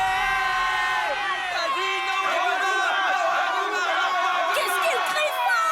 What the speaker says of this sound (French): Les spectateurs applaudissent toujours leur champion national